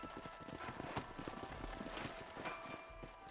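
Horses ridden by a group in the Western video game Red Dead Redemption clip-clop at a walking pace, a steady close hoof rhythm over a soft ambient bed, with no talk.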